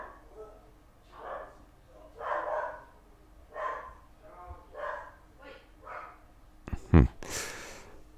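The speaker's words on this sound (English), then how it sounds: "The dogs just won't be quiet this morning." Dogs bark in the background under a person speaking steadily, with scattered muffled barks and one sharp, loud bark near the end.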